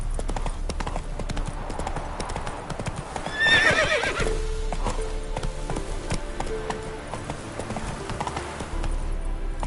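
Horse hooves clip-clop steadily in a galloping rhythm throughout, in The Witcher 3 Wild Hunt video game, with a sharp, loud whinny breaking out partway through over a constant background of game ambience.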